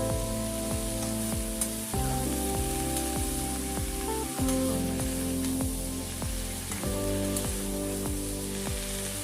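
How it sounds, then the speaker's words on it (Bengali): Pumpkin greens stir-fry in a pan with a steady, close hiss, while regular scrape-like strokes of stirring repeat through it. "সব কিছু একসঙ্গে কষিয়ে নিচ্ছি।"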